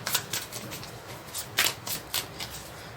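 Tarot cards shuffled and dealt, a run of soft papery riffles and flicks with a few sharper snaps, close and fairly quiet with no talk.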